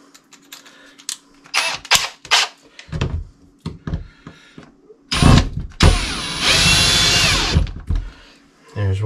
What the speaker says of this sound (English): As soon as I switch the bits over on the drill.